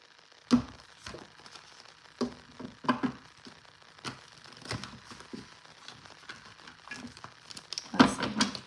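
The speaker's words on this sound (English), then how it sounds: "I suck at shuffling today" Tarot cards are shuffled by hand in bursts of soft riffling and slapping, close and quiet, with irregular clicks and pauses between the shuffles.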